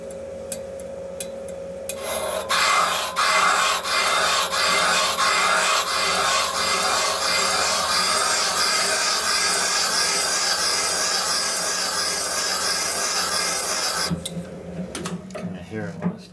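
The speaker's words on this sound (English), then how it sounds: "This will have to grind to get a smooth finish out of it." A hardened valve seat in a 1972 Harley-Davidson FLH 98ci shovelhead stroker head is ground to a smooth finish, producing a loud, steady, rasping whir for about twelve seconds, with quieter mechanical clicks before and after.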